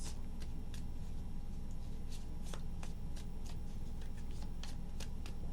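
Tarot cards are shuffled by hand in a run of quick, crisp riffling snaps against a constant background hiss.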